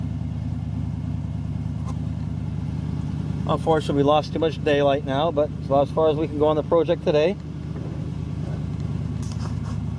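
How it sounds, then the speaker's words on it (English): A 1956 Oldsmobile engine idles as a steady low rumble throughout, with someone talking over it in the middle. "Of course we're going to leave the car running."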